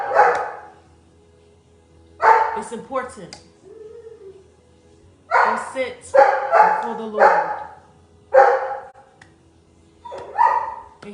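A dog barks in several loud bursts, with yips and a whimper, interleaved with someone speaking nearby in a quiet indoor room.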